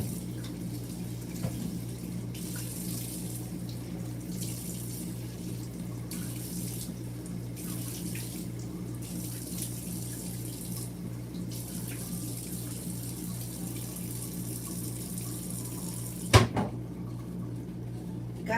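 A bathroom tap runs steadily while oil cleanser is rinsed off a face, a constant close splashing stream at the sink with a low hum underneath and a brief knock near the end.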